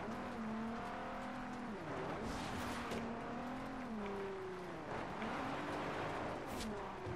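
Car drifting in Forza Horizon 2, a steady engine drone with wavering, sliding pitch as revs rise and fall, continuous and fairly loud with no break.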